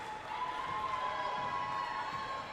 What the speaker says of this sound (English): The loud crowd loved it.